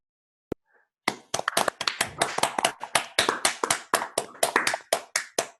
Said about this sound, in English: I think we have to unmute and then clap and then mute again